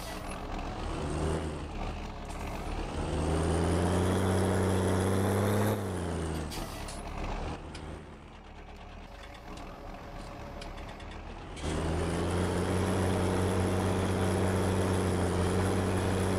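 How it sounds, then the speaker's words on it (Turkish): A truck idles heavily in Farming Simulator 2019, its engine droning before a loud hiss of air brakes cuts the tone, and then the engine rumbles back up. "Fren sesine bakın."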